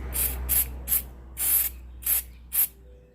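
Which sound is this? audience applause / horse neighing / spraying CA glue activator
spraying CA glue activator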